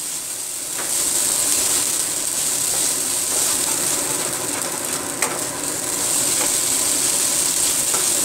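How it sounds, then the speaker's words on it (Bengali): Prawns fry in a pan with a steady, loud sizzle and hiss that carries on throughout, with occasional faint clinks of stirring and no talking. "চিংড়ি মাছটা ভাজা ভাজা হয়ে গেছে"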